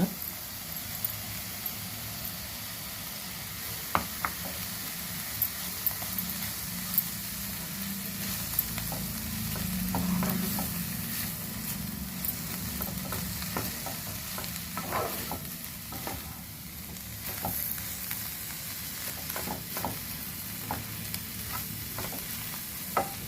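Greens sizzle in a pan as peanut, garlic, dried red chili and cumin powder go in, a low steady frying hiss broken by scattered sharp clicks and stirring scrapes, with no talk.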